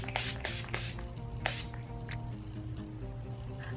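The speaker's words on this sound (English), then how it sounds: "Gonna set with the Urban Decay All Nighter Makeup Setting" Several short hissing bursts of Urban Decay All Nighter makeup setting spray, close and fairly quiet, over a steady low background hum.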